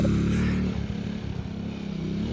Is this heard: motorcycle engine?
yes